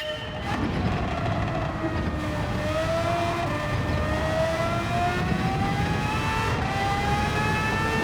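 A Gran Turismo 7 race car at Road Atlanta roars at full speed through a lap, a loud, continuous engine note rising and shifting in pitch through the gears, with no talking.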